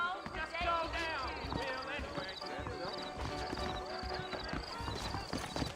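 Horse hooves clip-clop steadily in the Red Dead Redemption video game, with an occasional whinny, while characters talk over the trotting.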